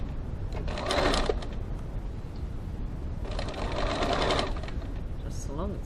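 A sewing machine runs in two short bursts of quick, even stitching while working a seam on a boot-shaped gift bag, with a voice talking quietly in between.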